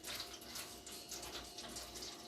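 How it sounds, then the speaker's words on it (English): Apple cherry juice poured into a pan for a meat marinade, a continuous close, splashy liquid stream lasting a couple of seconds. "we're just going to pour that in the pan"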